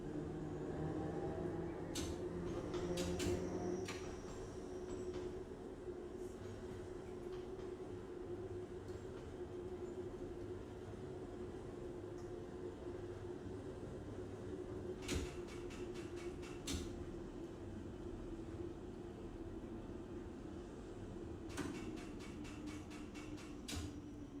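A train in the Train Sim World 2 game pulls into a station, with a steady low rumble and whine, bursts of rhythmic clicking and door or brake sounds, continuous and fairly close, with no speech.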